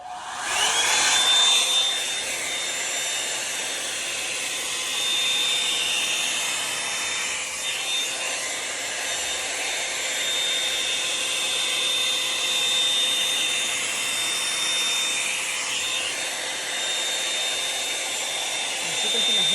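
A Revlon One-Step hair dryer blows steadily and loudly throughout, a continuous whooshing hiss with a faint high whine, while a voice speaks briefly over it near the start.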